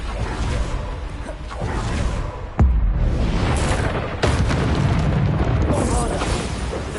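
Bombarda spell explosions in the game Hogwarts Legacy: booming blasts and whooshes, loud and dense, with a sharp burst near the middle and another shortly after, under continuous game noise.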